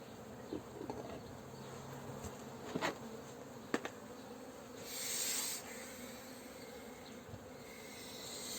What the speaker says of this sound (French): c'est une ruche qui est un peu agressive, que je vous disais que je changerai la reine